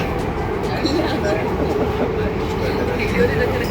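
Steady low rumble and rattle of a Delhi Metro train in motion, heard from inside a carriage, with faint voices in the background.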